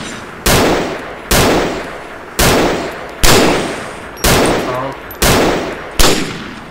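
Gunfire in the video game Army of Two during an SUV ambush: seven or eight loud, sharp shots at roughly regular intervals, each trailing into a short decaying echo.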